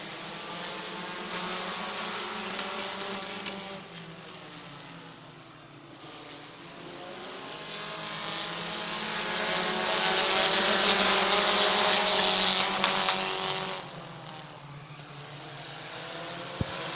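Race cars circle the Midvale Speedway oval during a three-wide battle, their engines droning from a distance, then swelling into a loud, buzzing pass before fading again.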